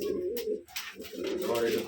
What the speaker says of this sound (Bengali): সাদা কবুতর এটা ডাকতেছে